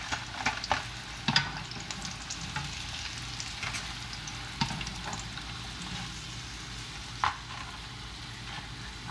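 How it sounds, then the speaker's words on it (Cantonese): Shrimps deep-frying in hot oil over high heat, a steady close crackle and sizzle with occasional sharper pops and knocks. "嗱，就大火咧，我哋炸夠佢3分鐘，炸到佢皮都燶燶地"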